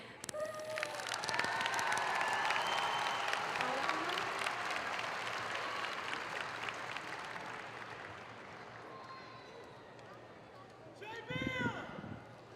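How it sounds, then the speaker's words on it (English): A high school graduation audience applauding in a large hall, a dense, sustained wash of clapping with a few scattered cheers, gradually thinning out and then swelling briefly near the end. "Let's give Connie a round of applause one more time."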